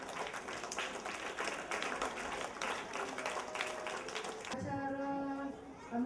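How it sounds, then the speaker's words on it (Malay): Audience applause for convoy participants returning from a Merdeka 2016 school cycling ride, a broad clapping wash that runs for several seconds before giving way to a sustained musical tone. "Tepukan yang gemuruh untuk peserta-peserta konvoi."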